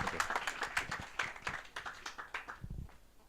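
Audience clapping for a speaker at a tech talk on autonomous vehicle security, fairly sparse individual claps at a quiet level, thinning out as it ends.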